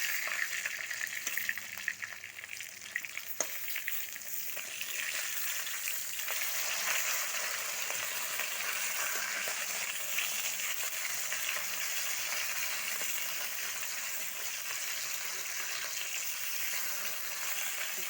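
Fish frying in a pan for an Odia home-style curry, a steady broadband sizzle with crackling and occasional stirring scrapes that holds at an even loudness from start to finish, with no voices.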